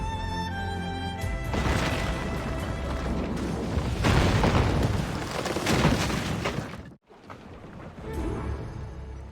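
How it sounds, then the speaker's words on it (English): Mortar shells slam into a sailing warship during a naval battle in Assassin's Creed Rogue, a sustained run of heavy booms and crashing impacts. A brief drop to near silence comes before the rumble resumes. "You're exposed to their mortars, sir!"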